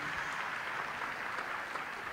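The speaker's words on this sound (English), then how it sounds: "Can we get a round of applause, please?" Steady wash of applause from a graduation audience at MV STEAM Academy, distant and even, with no distinct voices above it.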